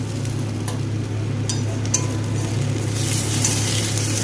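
Ginger paste sizzles with fried garlic, onion and spices in a pan of oil for a boal fish curry, a steady close frying hiss with faint stirring clinks throughout.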